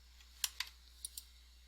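A key pressed on a computer keyboard, a few faint, quick clicks spaced irregularly over a quiet background hum.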